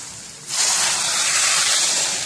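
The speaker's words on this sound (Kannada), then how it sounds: "ಈಗ ಇದಕ್ಕೆ ಒಂದು ಚೆನ್ನಾಗಿ ಒಗ್ಗರಣೆಯನ್ನು ಕೊಡೋಣ." A hot oil tempering of red chilli and neem leaves poured over a mango mudduli dish, quiet at first, then a loud sudden hiss that holds steady and close to the end.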